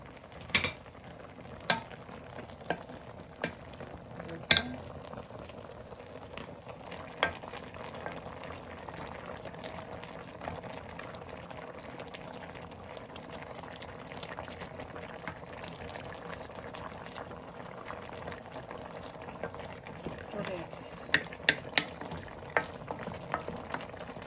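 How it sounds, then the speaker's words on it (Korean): A pot of braised cutlassfish stew bubbles and simmers steadily for a long stretch, with occasional sharp clicks and taps, no voices. "바글바글 30분 정도 끓인 후에 열어보겠습니다."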